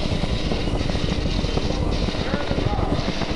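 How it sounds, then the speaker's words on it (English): Apollo 7 Saturn IB rocket lifting off in 1968, a dense, loud crackling roar that fills the whole clip without letup, with launch radio chatter mixed in. "We have liftoff."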